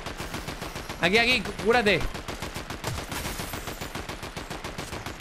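Gunfire in Fortnite, a rapid run of distant-sounding shots popping in a steady rhythm through most of the stretch, with a voice speaking briefly over it.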